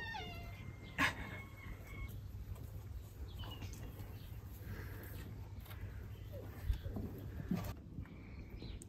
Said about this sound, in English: There's a very cute cat up here.